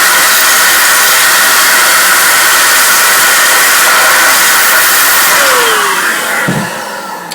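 An electric air blower, used instead of canned duster, roars in a loud continuous rushing stream close by, then tapers off near the end.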